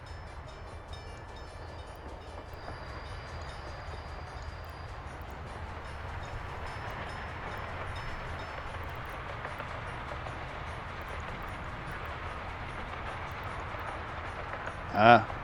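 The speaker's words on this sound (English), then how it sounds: "Ah, that's why I hear train." A train passes at a distance, a low steady rumble and rolling noise that holds throughout at moderate loudness, with a brief sharp sound at the very end.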